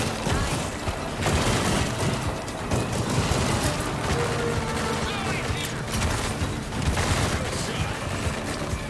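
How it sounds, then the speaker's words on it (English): Pipe bomb blasts and gunfire in the VR shooter After The Fall, a dense continuous roar of booms and shots with mechanical clatter throughout, loud and close, with a voice talking over it. "Pipe bomb away."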